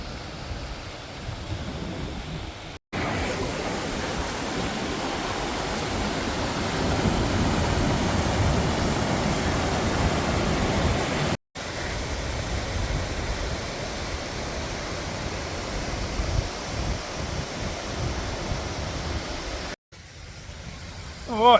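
A rushing mountain river in the high country, a constant close roar of fast water in broad noise, interrupted by a few abrupt cuts.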